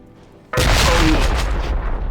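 A grenade detonating in the shooter game RealRTCW: a single sudden, loud, broadband blast that erupts after a brief quiet lead-in and rumbles on as a sustained roar for well over a second.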